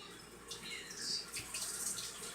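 Bouncy balls rinsed under a running tap, a steady hiss of water with brighter splashing swells as they are turned in the stream, fairly faint and close, with no talking.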